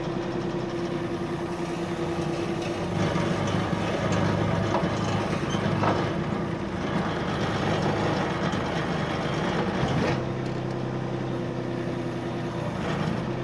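An excavator slowly driving down off a truck while being unloaded, a low engine rumble running steadily throughout with clanks and creaks of the tracks and metal over it, a sharper knock near the end, moderately distant.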